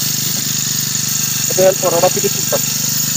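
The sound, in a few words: engine of a digital spray machine starting in a rice field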